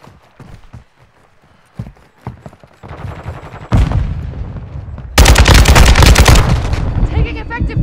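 Modern Warfare 2 gunfire, sparse scattered shots at first, then building into heavy, loud sustained automatic fire and blasts, with voices speaking in between.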